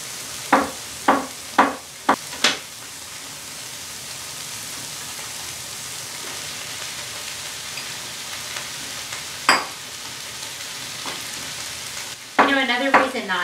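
Leftover squash casserole sizzling steadily in a pan, a soft continuous frying hiss under several sharp clinks and taps of utensils, with a brief clatter near the end.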